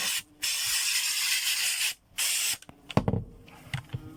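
Insecticide aerosol sprayed onto a huge wasp nest in mid-November: two long, loud hissing bursts with a brief pause between them, then a short gap and scattered close rustles and knocks.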